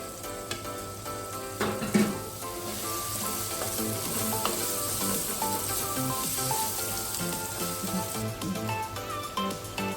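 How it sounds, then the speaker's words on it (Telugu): Okra pieces fry in a pan of oil for a fish curry, a steady broadband sizzle filling the whole stretch with occasional stirring scrapes and faint clinks, close and continuous with no voices. "తర్వాత ఇప్పుడు దీంట్లోనే బెండకాయ ముక్కలు కూడా వేసేసుకుందాం."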